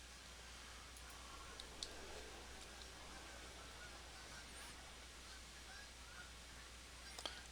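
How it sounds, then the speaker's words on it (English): Ducks flying overhead in Farming Simulator 17 honk and quack faintly over a low steady hum, with a couple of brief clicks. "We have ducks. I don't know if you can hear the ducks in the sky flying overhead"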